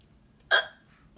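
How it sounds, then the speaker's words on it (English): A single sharp hiccup, brief and fairly close, standing alone against faint background noise. "Are you tired of the constant annoying of hiccups?"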